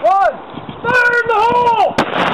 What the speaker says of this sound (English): The rodinator in use is shown here in these next couple of clips.